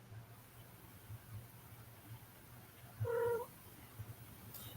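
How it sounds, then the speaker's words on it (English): A house cat gives one short, clear meow at middle distance over a quiet background hum, with nothing else around it and no talking. "I heard a cat."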